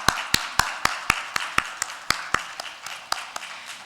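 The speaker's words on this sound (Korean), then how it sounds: "우리 함께 감사와 축하의 마음을 담아 박수하겠습니다" A church congregation at a Korean Sunday worship service claps in thanks and celebration, sharp claps landing in a quick, even rhythm, close and fairly loud, with no talking.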